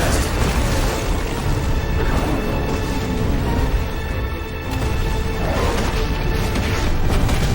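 Ifrit's Brimstone explosion in Final Fantasy XVI, heard as heavy booming blasts and a sustained loud roar, with swelling bursts around the middle and end amid dense battle noise.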